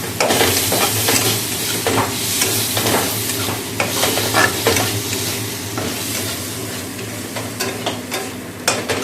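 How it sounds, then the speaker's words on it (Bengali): Potatoes stir-frying with spices in a pan give a loud, steady sizzle with repeated scraping stirs throughout, close and continuous, with no talking. "এদিকে আলুটা মশলা দিয়ে একটু নরম করে নিচ্ছি"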